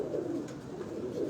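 Rooftop pigeons in Lahore coo softly in a continuous low, rolling murmur at a moderate distance.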